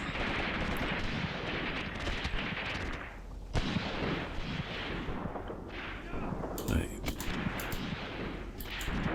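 Gunfire in the war game Graviteam Tactics crackles steadily, with dense rattling shots and occasional sharper booms layered through, sounding moderately distant and continuous.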